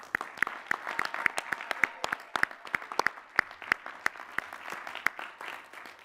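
Applause from the audience at a graduate commencement ceremony honoring the 2020 Doctors of Philosophy, scattered crisp claps over a softer background of clapping in a large hall, fairly distant and sustained.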